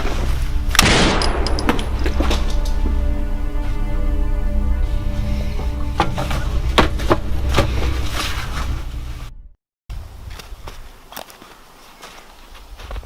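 Gunshots in a staged scene at a closing ceremony, a loud crack at the start followed by scattered sharp impacts, footsteps and movement, a brief dropout, then quieter shuffling.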